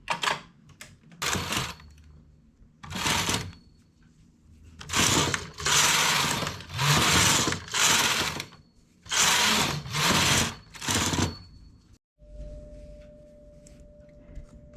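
Knitting machine working a one-piece lace yoke, its carriage sliding across the needle bed in repeated loud clattering passes with short pauses between them, close up and with no talk.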